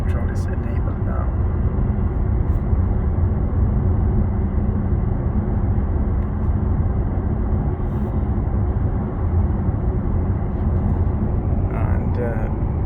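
Steady low road rumble and tyre noise inside a Porsche Taycan Turbo S sports sedan while driving with cruise control, a continuous broadband drone throughout with a voice talking over it.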